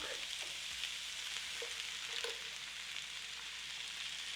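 A pan of frozen corn simmers as coconut milk is stirred in. A faint, steady sizzle runs throughout with a few soft stirring knocks, and no voices are heard.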